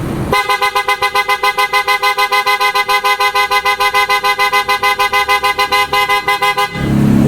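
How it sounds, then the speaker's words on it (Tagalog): PIAA auto-style horn fitted to a 2024 Toyota Wigo, blaring loud and close in a fast, continuous pulsing series of toots for about six seconds before stopping. "may na-install tayo ngayon na auto style horn sa Wigo model 2024"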